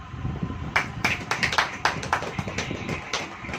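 Clapping from a congregation during a Christian sermon, a loose series of sharp, distinct claps with an uneven rhythm over a low murmuring background, fairly close and moderately loud.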